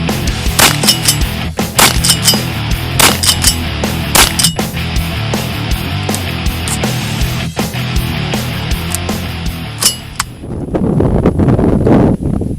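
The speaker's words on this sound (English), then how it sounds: "demonstrate one of the advantages of this straight pull feature with really good, quick, rapid follow-up shots and target acquisition." A C-MORE M26 straight-pull shotgun fires a rapid string of loud, sharp reports at a steady quick pace for about ten seconds, then the shooting stops and a quieter rustling follows.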